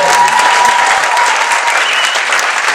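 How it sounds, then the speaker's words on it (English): Loud, full applause from wedding guests greeting thanks to the bridesmaids, a dense continuous clatter of clapping hands sustained throughout without any talk. "A round of applause,"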